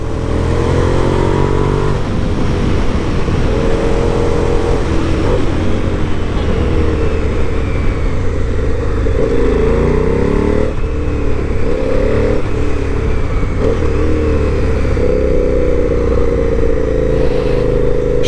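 A 2006 KTM SuperDuke 990 motorcycle is ridden hard, its engine droning loudly and continuously as it rises and falls through gear changes and throttle, with wind rushing past the rider's microphone.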